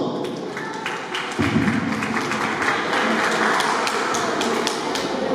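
Guests at a baptism celebration applaud the godfather, a broad wash of clapping that swells after a second and carries on evenly at a moderate distance.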